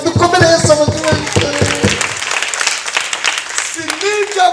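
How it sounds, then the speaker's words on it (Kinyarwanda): Church congregation applause during a Christmas gathering, a rough wash of clapping that rises after a voice sings or calls out loudly, and more voices are heard over it near the end. "Dukomere Yesu amashyi."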